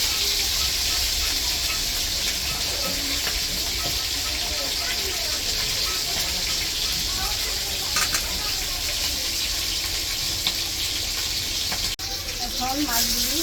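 Water runs steadily from a tap while cut hilsa fish is washed, a constant close gush with faint clinks and handling, and a voice talks briefly over it.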